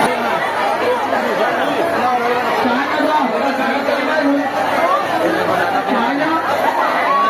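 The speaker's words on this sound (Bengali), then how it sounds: "কি পরিমাণে ভিড় দেখো" Dense murmur of a large crowd of pilgrims chattering at the Dakat Kali temple during the Tarakeswar Yatra, many overlapping voices forming a steady close wash with no pauses.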